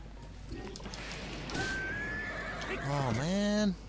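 A horse neighs loudly near the end in Zelda: Breath of the Wild, a rising then falling whinny with strong harmonics, preceded by faint clip-clop steps under game ambience.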